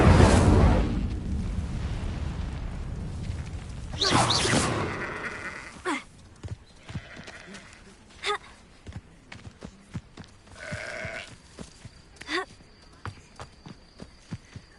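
A roaring, crackling burst of flame from an Incendio fire spell in a Hogwarts video game opens loud and close, followed by a second fiery whoosh and then scattered footsteps and thuds.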